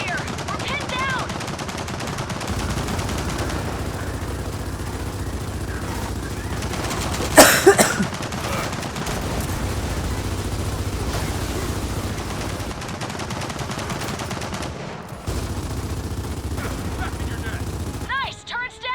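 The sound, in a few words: machine gun turret firing in video game Gears of War 4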